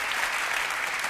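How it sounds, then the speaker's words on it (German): Steady audience applause fills a cabaret show, a dense, even wash of clapping hands sustained throughout without pause. "Ja, und Sie klatschen nicht an der Stelle, bitte."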